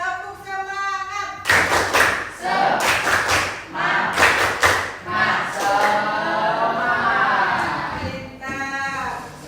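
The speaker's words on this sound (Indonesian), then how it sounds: "Ada lagi. Tepuk semangat." A classroom of pupils performs a patterned spirit clap: a spoken prompt leads into several sharp rounds of group clapping in rhythm, then voices chant together before a teacher speaks again.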